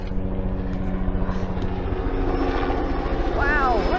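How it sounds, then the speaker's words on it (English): Steady droning rotor and engine hum of a helicopter nearby, continuous throughout, with a brief voice cutting in near the end. "The helicopter's coming in preparation for an evacuation."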